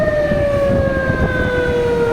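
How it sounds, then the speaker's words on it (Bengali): An ambulance siren wails loudly and close on a road, a sustained tone slowly sliding lower as it passes, with traffic rumble underneath. "পাশে একটা আমার অ্যাম্বুলেন্স আছে পাশ করে দিলাম চলে গেল মেডিকেলে যাবে"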